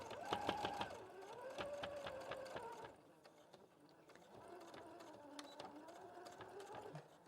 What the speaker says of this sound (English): I'm stitching right through the pocket bag to hold that in place so it doesn't gape